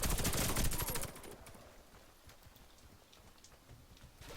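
Gunfire in the PvP shooter Warface: a loud dense burst of rapid shots for about a second, then quieter scattered in-game noise with a faint voice.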